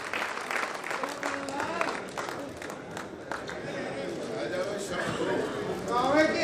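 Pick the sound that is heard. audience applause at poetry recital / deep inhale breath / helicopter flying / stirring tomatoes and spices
audience applause at poetry recital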